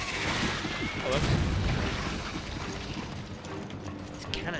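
Cannon fire in the survival horror game Resident Evil 5, a dense ongoing rumble of booms and crackling shots with several heavier blasts early on, while players talk over the battle.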